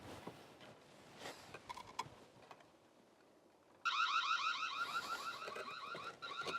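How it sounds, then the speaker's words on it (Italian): Siren alarm of a Reolink Argus PT security camera bursts on loudly and keeps sounding steadily, a warbling electronic wail over faint background noise after a quieter stretch of ambient sound. "Sentite anche l'allarme che ho attivato per mostrarvelo."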